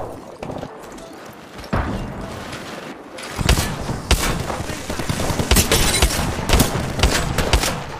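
Gunfire bursts in the video game Apex Legends, with sharp repeated shots and rapid volleys growing denser and louder in the second half, heard alone without talk.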